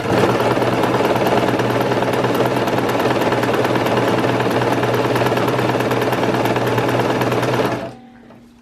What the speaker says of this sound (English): I will start sewing